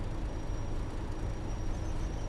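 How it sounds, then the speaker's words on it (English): Dragging brakes on a train in Train Sim World 2, heard as a steady low rumbling grind under continuous broadband noise with a faint high whine, no talking. "Brakes seem to be dragging, don't know how."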